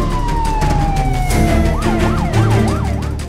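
An ambulance siren wails loudly and close by, a long falling tone that breaks into a quick rising-and-falling yelp and holds steady throughout.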